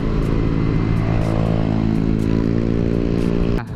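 A motorcycle revs hard on a Bandung street, its loud, steady engine drone close by and rich in harmonics, easing off briefly at the very end.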